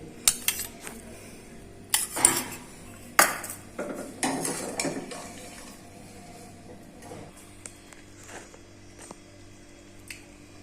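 A spoon clinks and scrapes against a pot while mashing soft boiled black chickpeas: several sharp metallic knocks early on, then quieter squishing and occasional light taps.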